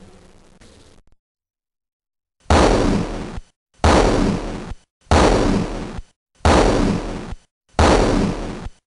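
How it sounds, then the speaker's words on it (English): Explosions in the Wizardry 7 video game: five heavy, evenly spaced booming blasts, each about a second long, follow a brief burst and a stretch of silence, loud and alone. "Soon the explosions cease"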